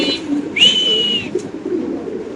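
House pigeons at a pigeon farm keep up a low, continuous cooing murmur throughout, and one brief, bright rising whistle-like call rings out in the middle.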